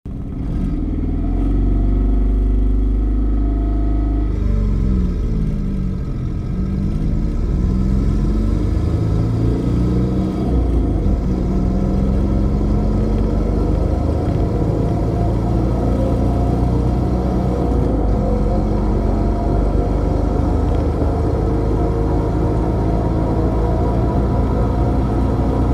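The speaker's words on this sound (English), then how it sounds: "it'll roll coal to a certain extent, and that's more or less the nature of a diesel engine" A Saturn car fitted with a Kubota D722 turbo diesel engine runs steadily and loudly up close, its low engine drone shifting in pitch as it revs and settles across a long stretch with no talk.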